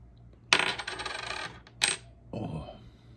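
A small metal part drops and rattles inside a gas heater, a jingling, coin-like clatter that comes in three separate bursts, loud and close, with quiet between them.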